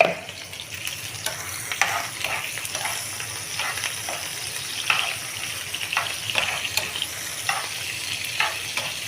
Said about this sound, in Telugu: ఎండు చేపలు అయితే మరి నూనెలో వేస్తున్నాను